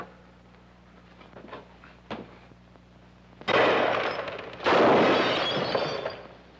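Two sudden loud gunshot blasts ring out a second apart with long crackling tails, after a quiet stretch holding a couple of faint sharp clicks.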